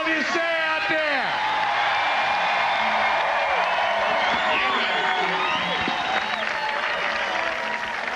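A big outdoor crowd at a 1997 beach volleyball championship on Cape Cod applauds, cheers and whoops in a steady, dense roar, with an announcer's voice riding over the top at the start.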